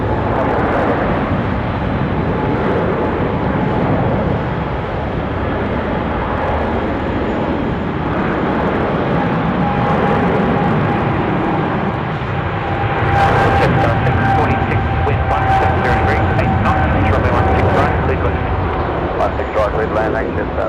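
An airliner taking off at Sydney Airport, a continuous loud engine roar that builds through the clip, with a person talking over it and bursts of crackly radio chatter.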